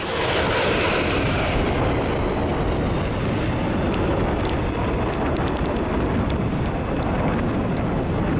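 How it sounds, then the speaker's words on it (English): Steady, loud roar of a Japanese F-15 fighter jet making an emergency landing on a regular runway using its tailhook, with broadband engine and rushing noise filling the whole stretch. "A Japanese F-15 had to use its tailhook during an emergency landing on a regular runway."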